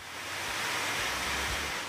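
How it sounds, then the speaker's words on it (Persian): A high-pressure fire hose sprays water onto a tower during a firefighters' training drill, giving a steady, dense hiss with a faint low rumble beneath and no voices. "به صدای آب گوش کنین."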